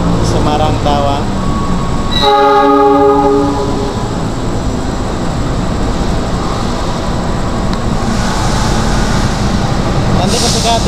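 The Argo Muria passenger train arriving from Semarang Tawang rumbles loudly through Cirebon Prujakan station, with a sharp horn blast partway through and steady rolling wheel noise throughout, while someone talks nearby.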